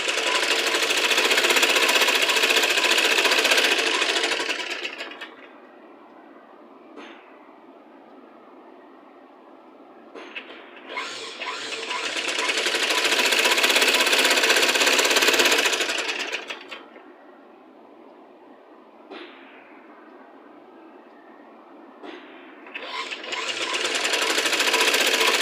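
Sewing machine stitching invisible piping on a garment, running in two long loud bursts of rapid, steady whirring with quiet pauses and light clicks between them, no talk.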